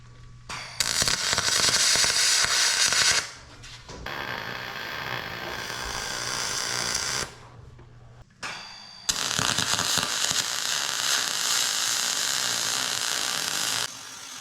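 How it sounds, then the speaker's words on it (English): Tack welds join an aluminum roof extension on a custom aluminum snowcat, heard as several loud, sustained crackling bursts of a few seconds each, separated by short pauses. "we're gonna get this tacked on and then take this extension off and fully weld it on the"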